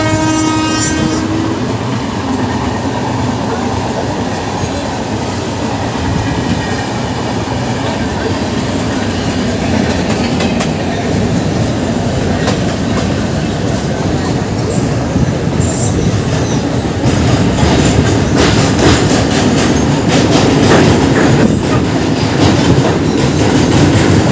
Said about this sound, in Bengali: চেন্নাই সেন্ট্রাল থেকে শালিমার করমণ্ডল এক্সপ্রেস